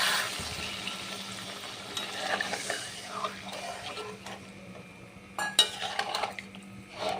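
Coconut milk goes into a curry of elephant-foot yam stalks in a pan, a soft hiss and gentle sizzle with light clinks of a spoon against the pan, fairly quiet and close.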